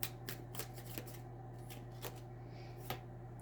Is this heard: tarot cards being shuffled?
yes